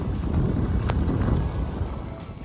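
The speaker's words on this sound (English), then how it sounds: "It's windy as hell." Strong wind on a mountain at about 4,200 feet buffets and roars across the microphone in a continuous, loud rush with a brief gust near the start.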